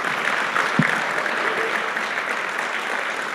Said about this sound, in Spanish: Un aplauso más para el Señor